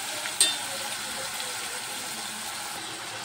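Ground masala roasting in oil in a pan, a steady soft sizzling hiss that stays even throughout, with one brief clink near the start.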